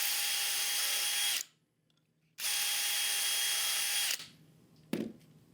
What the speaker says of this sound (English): And then for the end, just drill a couple holes.